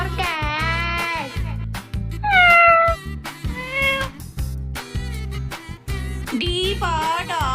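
A cat meows repeatedly, clear and close, in a string of rising and falling cries set against a steady thumping children's song beat.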